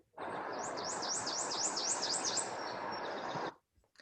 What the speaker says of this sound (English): Yep, Prairie Warbler.